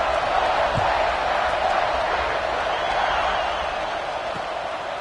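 A steady, dense roar from a stadium crowd in the College Football 26 video game, buzzing after a touchdown run just before a kickoff. The noise holds loud and continuous for the whole stretch and eases slightly near the end.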